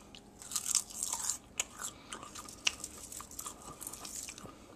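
Crisp bites and chewing of crunchy oven-baked kale chips, close up, with sharp crunches in irregular bursts over about five seconds and no talking.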